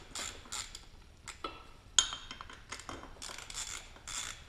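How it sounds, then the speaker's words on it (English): A 10 mm socket wrench breaking bolts free on an outboard motor's lower unit gives quiet ratcheting clicks and creaks in short bursts, with one sharp crack partway through, close and without talk. "now we got both of our bolts broken free here"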